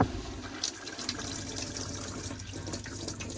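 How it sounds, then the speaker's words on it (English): Warm water runs steadily from a tap in an Elddis Platinum 196 caravan, a close, continuous hissing flow with faint splashing and no talk. "this is a pressurized flow of water, and that is getting up the temperature there as it is warm water coming through"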